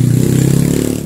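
Yamaha Mio Sporty motorcycle that won't start properly, its engine chugging in a steady, rapid low rhythm close by, loud and even throughout with a light mechanical clatter on top.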